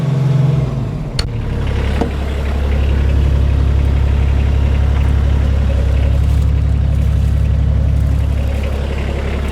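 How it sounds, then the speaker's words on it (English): Kioti CS2530 compact tractor running close by: a loud, steady engine drone with a low hydraulic whine and hum from the hydrostatic steering and hydraulics, plus a couple of brief knocks near the start. "You definitely hear the hydros making noise and the hydrostatic steering making noise and stuff like that"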